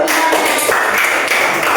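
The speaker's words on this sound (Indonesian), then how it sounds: "tepuk tangan untuk kelompok 1 dulu" Clapping for a student group in a classroom, a short, loud and dense burst of hands clapping close by, continuous and with no talk over it.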